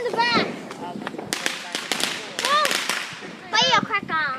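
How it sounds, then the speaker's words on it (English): Firecrackers crack and pop in sharp, irregular bursts at a fireworks outing, mixed with whistling fireworks rising in pitch, while people shout and talk over the noise. "Firecracker. Firecracker. You can hear it, but you can't see it."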